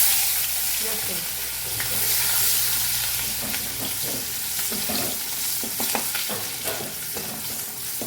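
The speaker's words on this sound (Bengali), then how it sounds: "ভালো করে ভেজে নিই" Vegetables fry in a pan with panch phoron spices, a loud continuous sizzle close up with scattered stirring scrapes and clicks throughout.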